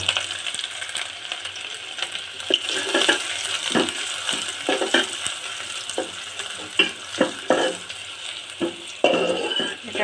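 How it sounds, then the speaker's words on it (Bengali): Onions fry in oil with cumin and bay leaf, giving a continuous sizzle with repeated stirring scrapes and clinks of a utensil against the pan. "পেঁয়াজ দিয়ে দিলাম।"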